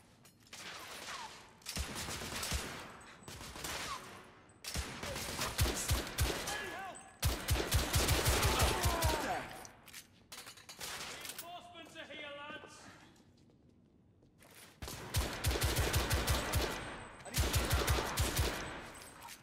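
Bursts of rapid automatic gunfire in the game The Order: 1886, loud repeated volleys separated by brief lulls, with a voice shouting between them.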